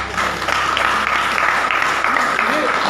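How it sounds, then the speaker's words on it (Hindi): A church congregation claps during a Hindi sermon, a dense, loud round of applause that continues through the clip while a preacher's voice carries over it. "बहन ताली बजा दी"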